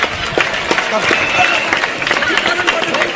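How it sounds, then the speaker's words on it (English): Students at a school gathering with a politician break into dense, continuous applause, a loud crackling wash of many hands mixed with crowd voices and talking throughout. "Let's give him a big round of applause"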